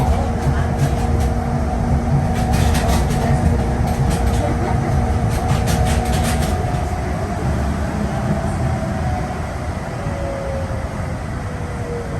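Inside a moving train in Hong Kong, a loud steady rumble of wheels and carriage runs throughout, with a faint tonal hum and brief clicking early on.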